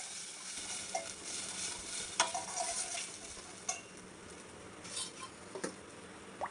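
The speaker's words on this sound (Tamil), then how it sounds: "இது கொஞ்சம் பச்சை வாசம் போகிற வரைக்கும் லைட்டாக வதக்கி விட்டுக்கலாம்" Ground spice paste sautéing in a pan for buttermilk curry, a soft continuous sizzle with a few light clinks of a spoon or spatula against the pan, fairly quiet and close.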